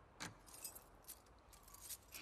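A faint jingle of keys in The Last of Us Part II, a few brief light metallic rattles over a quiet game background with no talk.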